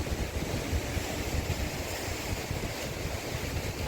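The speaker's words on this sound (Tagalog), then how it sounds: "Ang ganda ng dagat dito." Sea waves wash steadily against the shore at Real, Quezon, a continuous hiss and roll mixed with wind buffeting the microphone.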